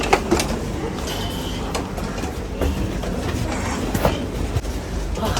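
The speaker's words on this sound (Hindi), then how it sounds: "ट्रेन आई और अब दौड़े नहीं, ऐसा हो सकता है।" Rajdhani express train pulling into an Indian railway station, a steady loud rumble of wheels rolling over rail joints with faint clatter and little speech.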